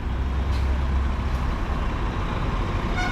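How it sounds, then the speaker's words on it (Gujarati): A large bus, a luxury AC coach, arrives at a roadside stop with a loud, continuous diesel engine rumble and a hiss of air brakes near the end. "જો ભાઈ આપણી બસ આવી ગઈ છે,"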